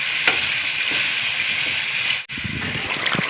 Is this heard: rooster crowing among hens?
no